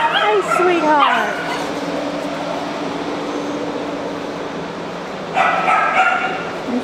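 Small wiener dogs and other shelter dogs yip, bark and whimper in a noisy kennel at a rabies control shelter in Jackson, Tennessee, with a sharp burst of barking early on and another near the end over steady din.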